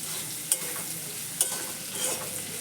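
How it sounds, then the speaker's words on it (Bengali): A pan fry of beans, carrot and potato being stirred, with soft sizzling throughout and a couple of sharp scrapes of the spoon against the pan, close and fairly quiet. "বিনস, গাজর আর আলু দিয়ে একটা"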